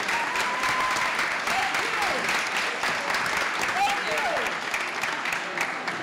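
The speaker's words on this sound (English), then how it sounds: "let's give a warm applause to thank our panelists" An audience at a town hall meeting applauds the panelists: sustained dense clapping throughout, with faint voices and a few cheers mixed into the crowd noise.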